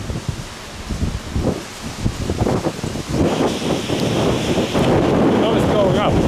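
Strong wind buffets the microphone during an extreme high-wind test of a DJI Mavic Pro drone, a loud, continuous roaring rush that swells and stays heavy throughout.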